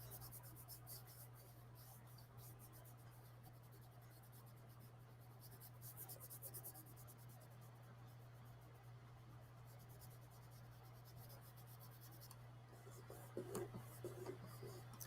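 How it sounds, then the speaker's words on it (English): Colored pencil shades paper using the side of the lead, a soft continuous scratchy rasp with quick strokes, faint and close, over a steady low electrical hum. "But I want to color it with the side of the pencil, not the tip."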